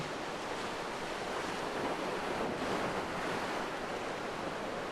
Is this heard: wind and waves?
yes